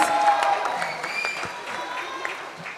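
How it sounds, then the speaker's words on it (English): Audience applause at a Bollywood trailer launch event for Bazaar, a fairly loud burst of clapping with some crowd noise that slowly tapers off. "give him a round of applause, ladies and gentlemen"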